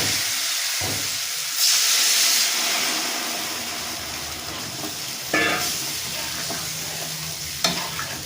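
Water poured into well-fried spices for a Bengali tapse fish curry, giving a loud, steady sizzle and hiss with steam, broken by a few sharp spatter bursts and stirring scrapes.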